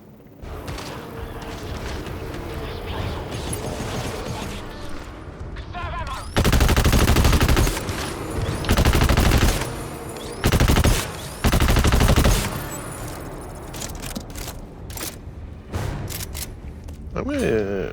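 Carbine gunfire in the video game GTFO: sustained loud bursts of rapid shots in several separate volleys, with booming impacts and game noise filling the gaps between them.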